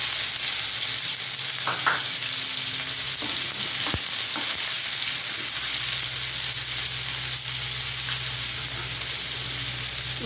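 Half a cup of onions sizzling and frying in a pan for beetroot curry, a steady close hiss broken by a few light stirring scrapes and taps, with no talking.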